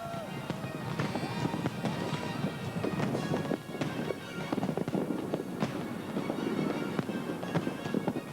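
Grucci fireworks crackle and pop in dense, rapid bursts, a continuous barrage of sharp explosions at a large fireworks display.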